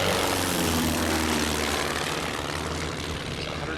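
A 1981 Varga Kachina 2180 light airplane with a 180-horsepower engine drones steadily and loudly, its propeller hum constant and close with no pauses.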